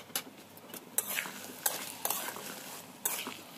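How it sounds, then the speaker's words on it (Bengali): Chopped onion with salt and turmeric stir-fries in a pan for a winter vegetable bhorta, quiet sizzling broken by several sharp spatula scrapes and clinks against the metal, close by. "এবার সব ভালো মতো একসাথে ভেজে নেব।"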